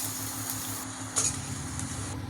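Onions and dried red chillies fry with salt in a pan for a three-dal chutney, giving a soft, steady sizzle close by, broken by one brief clink of stirring.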